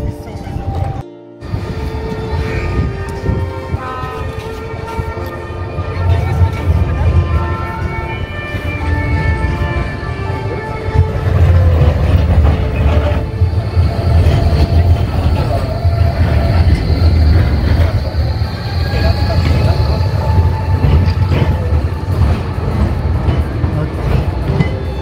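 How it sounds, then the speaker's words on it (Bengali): A tram passes along a Zurich street, with a loud rolling rumble, clattering wheels and a metallic squeal that grow stronger midway and continue to the end amid city background noise. "এখানে ট্রাম প্রচুর চলে"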